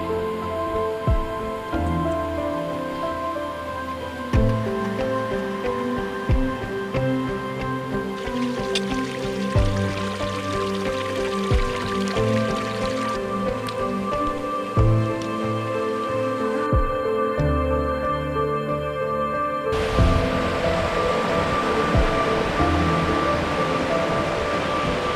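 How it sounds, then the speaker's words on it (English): Winnie Creek in South Tyrol runs past the Tiefrasten shelter, a continuous rushing, trickling flow heard at close range with a steady, unbroken wash of water. "The Winnie Creek passes the shelter."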